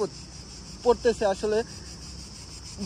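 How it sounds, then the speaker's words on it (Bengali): Crickets in a tree in Athens, Greece keep up a faint, steady high-pitched pulsing trill throughout, while someone speaks briefly over it in the middle. "তো ঝিঝি পোকা ডাকতেছে।"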